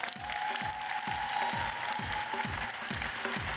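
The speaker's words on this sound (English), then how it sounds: "Give him an applause." Applause at a FIRST Tech Challenge robotics league championship, a crowd clapping steadily alongside regular rhythmic mechanical thumps from the arena, moderately loud throughout.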